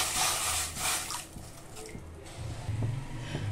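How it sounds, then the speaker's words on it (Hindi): Water is poured into a cooking pan, a soft splashing stream that starts strong and tapers, then gives way to faint trickles and small clinks of the pan at close range, with no talk. "सब में पहले हम एक पैन में 2 कटोरी पानी डालेंगे।"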